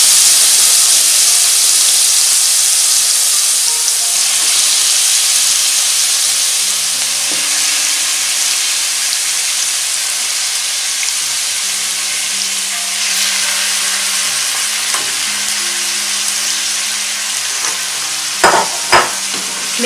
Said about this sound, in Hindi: अब हम इसमें मटन डाल देंगे।